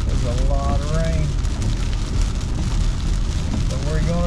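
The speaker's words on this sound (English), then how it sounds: "There's a lot of rain." Heavy rain pours down steadily on a night camp during a stealth camping trip, a loud continuous wash with a voice speaking briefly over it.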